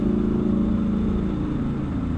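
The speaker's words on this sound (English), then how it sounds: "loving the new exhaust, even though it has downsides with the mid-pipe" A Triumph Scrambler 1200XE motorcycle with a new aftermarket exhaust drones steadily up close, its deep engine note holding even for about two seconds with a slight easing toward the end.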